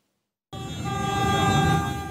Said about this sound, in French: Les klaxons et les vrombissements des motos, pour tout mot d'ordre, ont fait le job.